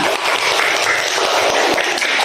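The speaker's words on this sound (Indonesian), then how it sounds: "tepuk tangan anak-anak" Children in a classroom applaud together, a dense, steady wash of many small hands clapping at close range for a couple of seconds with no talk over it.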